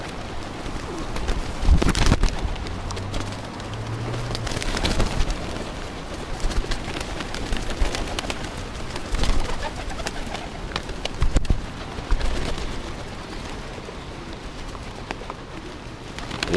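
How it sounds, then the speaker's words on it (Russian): A flock of pigeons feeding in Khabarovsk, with steady cooing, wing flutters and pecking close by, and an occasional louder burst of flapping. "Сибирь кормит голубей."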